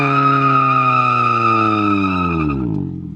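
A Miata doing a clutch kick: a loud, close engine rev with a ringing, tire-squeal-like tone holds steady, then falls away as the revs drop off near the end.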